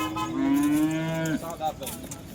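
A cow at a cattle market moos once, a long low bellow with a rising end, then breaks off into background murmur and farmyard noise.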